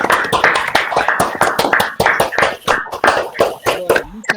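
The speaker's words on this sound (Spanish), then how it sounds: "está bueno terminar con un aplauso de resistencia y de esperanza" A small group claps in unison to close a community gathering about land and the peasant movement, a rapid, steady run of sharp hand claps, close and fairly loud, tapering off at the end.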